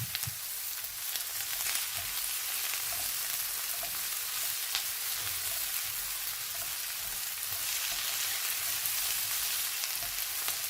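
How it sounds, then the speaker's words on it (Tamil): Onions and green chillies for chili paneer fry in hot oil with a steady, dense sizzle like rain, and a utensil gives occasional soft scrapes as it stirs them, all without any voices. "வெங்காயம் பச்சை மிளகாய் எல்லாம் வடிவாக வதங்க வேணும் என்பதற்காக கொஞ்ச நேரத்துக்கு எல்லாவற்றையும் கிளறி விடுவோம்"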